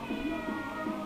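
A cat meows indoors in a workshop where wood is being hand carved for slingshots: a few short, close, wavering cries.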